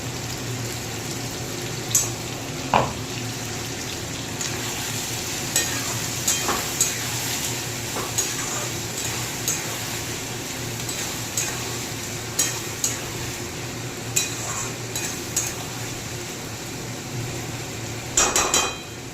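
A ginger, garlic, onion and tomato paste frying with Bombay duck fish in a pan hisses softly and steadily, broken by regular clacks and scrapes of a spatula stirring.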